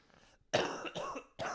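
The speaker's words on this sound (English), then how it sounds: "that was me fake coughing" A few forced coughs from one person nearby, two longer bursts then a short third, separated by brief pauses.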